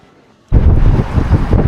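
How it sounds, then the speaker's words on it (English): A sudden loud burst of wind buffeting the microphone after a near-silent moment, rumbling and gusting continuously, in coastal Dalian, China. "It's so windy today."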